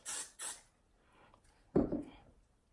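Hairspray sprayed inside a lace wig: two short quick hissing bursts close by, then a louder, rougher burst of contact noise a moment later, faint overall with no talking.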